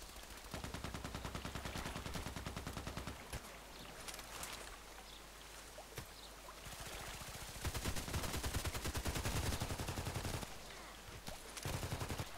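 Dense gunfire in the online shooter Contract Wars on the Lighthouse map, bursts of rapid automatic shots rattling almost continuously and loud throughout, with scattered single cracks and a constant busy battle backdrop.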